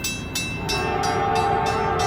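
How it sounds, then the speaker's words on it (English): A northbound Norfolk Southern grain train passes a crossing at Church Street in Walton, with a steady loud rumble of rail cars and a horn sounding under it, close and continuous. "Looking like a grain train."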